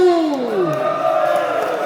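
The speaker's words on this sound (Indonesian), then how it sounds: "mana tepuk tangannya untuk Maluku" Spectators at an Ambon versus Tual badminton match roar and cheer, with rising and falling shouts and whoops in a loud, sustained crowd wash.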